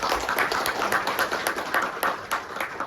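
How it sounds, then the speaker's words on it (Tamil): An audience claps for a singer at a Tamil literary event, a moderate burst of many hands with a fairly even rapid rhythm, steady and unaccompanied by talk. "ஜானகிக்கு இன்னொரு முறை கைத்தட்டல் கொடுக்கலாம்"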